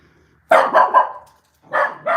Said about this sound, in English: You have an intimidating bark.